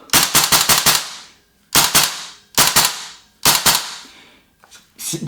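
Tokyo Marui AKM gas blowback airsoft rifle fired in semi-auto, sharp close cracking shots in quick bursts of several, with short pauses between groups.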